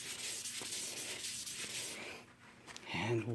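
A magic eraser rubs up and down a turning wooden pool cue shaft, making soft close scrubbing strokes with a few light knocks and a slightly louder scuff at the end.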